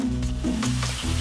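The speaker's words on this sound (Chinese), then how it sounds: "翻炒均匀。" Crayfish stir-fried in a hot, well-oiled wok with ginger, garlic, dried chilies and a splash of rice wine, giving a loud, steady sizzle with scraping stir strokes throughout a short burst.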